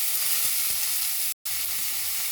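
Very finely chopped onions and cumin frying in hot oil, a loud, steady, close sizzle with a few soft taps, cut by a brief moment of total silence before resuming, no talk.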